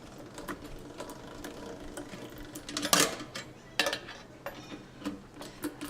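A hand-cranked pasta machine rolls out dough, giving quiet, irregular mechanical clicks and ratcheting taps with a few sharper knocks of the metal rollers, close by.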